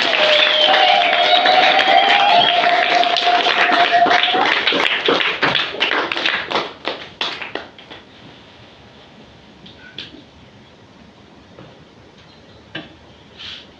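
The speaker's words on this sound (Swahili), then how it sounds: "Simpigie Bwana makofi." A church congregation clapping for the Lord: dense rhythmic clapping under a sustained tone, thinning after a few seconds into scattered individual claps and then quiet.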